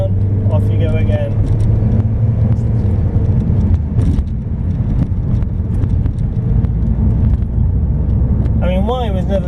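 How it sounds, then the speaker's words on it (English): MG ZT accelerating hard, its engine note a loud, sustained low roar that carries through the whole stretch, with a voice talking over it and a brief higher whine near the end. "the acceleration is just brilliant. Literally, you just foot down, off you go again"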